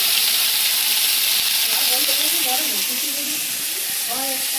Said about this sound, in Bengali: আমাদের ভাজা অনেকটাই হয়ে এসেছে, আর খানিকটা বাকি, হলেই হয়ে যাবে ভাজা।